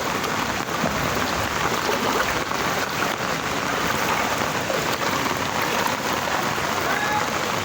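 Heavy rain pours steadily over a flooded subdivision near a guardhouse, a dense continuous hiss of drops on water and surfaces, loud and unbroken throughout.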